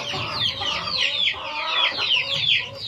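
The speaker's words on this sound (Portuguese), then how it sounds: "E eles estão ali, ó, piando, querendo de novo." Young pullets in a poultry pen keep up a continuous chorus of high, overlapping peeps and chirps, sounding close and fairly loud, with faint clucking underneath.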